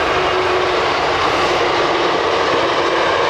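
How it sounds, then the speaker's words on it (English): A loud, continuous rumble of a train running along a railway beside a golf course in Cornwall. Steady and close throughout, with broadband roar and no talking. "Oh, and just getting the train."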